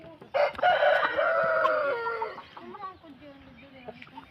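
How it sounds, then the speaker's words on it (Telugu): A pair of Peru cross hens at close range: one bird gives a loud, strained crowing call that fades out, and softer clucks follow. "అయితే ఈ 2 పెరుగు క్రాస్ పెట్టలేనండి."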